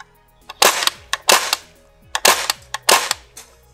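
Umarex M1A1 gas blowback BB gun fired semi-auto, four sharp cracks with mechanical clacks of the blowback action, spaced in two pairs, close and loud.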